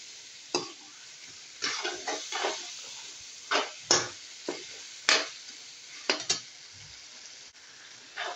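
Half a kilo of beef being stir-fried kosha-style in a pan, with intermittent scraping and stirring strokes over a soft sizzle, close and moderately quiet, no talking.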